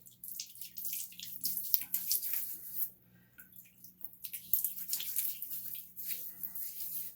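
Water swirls and splashes softly in a sink basin, close and gentle, with irregular trickling bursts and a short quiet pause midway over a faint steady hum.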